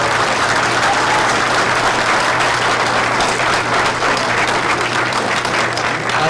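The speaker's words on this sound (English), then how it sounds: "Could you please give these two fine candidates a round of applause" Sustained, dense applause from a debate audience for two mayoral candidates, a forum in Lynn, Massachusetts, steady and loud throughout with no break and no talk over it.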